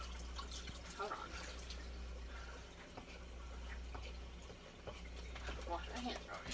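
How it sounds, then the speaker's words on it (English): Water runs steadily from a kitchen tap during handwashing before handling a raw prime rib roast, a continuous close hiss with small splashes and clinks. "Wash my hands real good."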